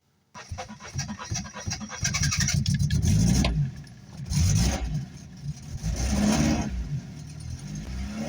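Car engine cranking and catching with the choke applied, then running and revving in surges, loud and close, with a faint panting noise in the background.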